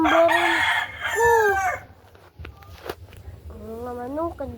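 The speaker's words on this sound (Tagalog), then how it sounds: "Mga manok, dito pala." Roosters crow loudly nearby, two long calls at the start and another after a pause, with scattered clucks and faint sounds between.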